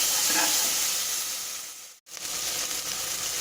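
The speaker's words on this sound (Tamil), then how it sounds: "இது பச்சை வாசனை போகிற அளவுக்கு வதக்கிக்கணும்" Ginger garlic paste sautés in a pan after the onions, a steady loud hiss and sizzle with one brief dip in the middle, no voices.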